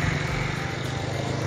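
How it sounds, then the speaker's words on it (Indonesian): A steady engine hums at idle, a smooth continuous low drone with no voices, from a 2021 Honda Brio RS CVT. "Coba dilihat untuk suara pada mesin, semuanya halus sekali ya."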